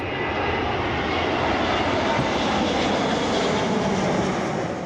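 A fixed-wing aircraft passing low overhead on a flight path above Whitecrook, a loud, sustained broadband engine roar that stays constant throughout, with no voices.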